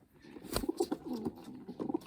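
A young racing pigeon coos in soft, close bursts that repeat a few times, with a faint rustle between the calls.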